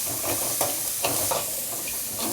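Chana dal frying in hot oil while making poha, a steady close sizzle with soft stirring scrapes and a few brighter crackles throughout, no voices.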